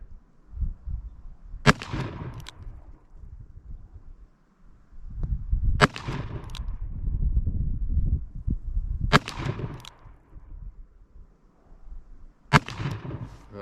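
Four sharp, loud reports from a Smith & Wesson Model 67 revolver ring out several seconds apart at an outdoor range, each with a brief echoing tail over a low rumbling background.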